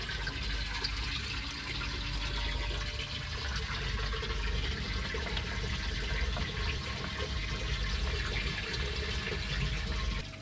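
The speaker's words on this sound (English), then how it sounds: "You can hear the water coming out the other end." Water pours steadily from the outlet of a Jebao CW-36 36-watt UV clarifier on a marine saltwater reef aquarium, a constant soft rushing gush with a faint tonal hum beneath it.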